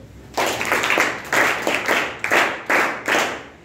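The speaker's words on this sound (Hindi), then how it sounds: "उसके लिए तालियां बजाओ" Audience clapping for a student at a high school talk, several short bursts of applause starting and stopping in quick succession, fairly close and lively.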